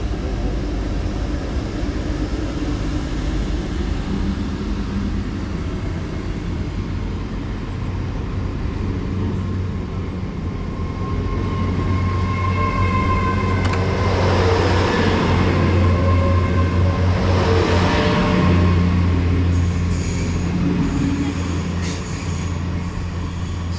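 A Great Western Railway Class 800 train pulls out of Stonehouse station in Gloucestershire, heading for Cheltenham Spa. A loud, steady rumble of wheels and engine builds and holds close by, with no voices over it.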